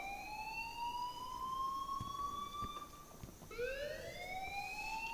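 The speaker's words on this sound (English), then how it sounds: "please turn off that alarm since that's your job" An alarm wails in the Life is Strange video game, a loud rising electronic siren tone that breaks off and restarts at a higher pitch partway through. No voices are heard.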